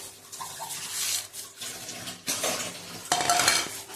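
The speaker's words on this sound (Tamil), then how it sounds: "வெல்லம் ஆட் பண்ணிவிட்டு லைட்டாக அப்படி கிண்டி விடுங்க." A spoon stirs kozhukattai with jaggery in a metal pot, giving irregular scraping and clinking strokes against the pan in a quiet kitchen, with no talking.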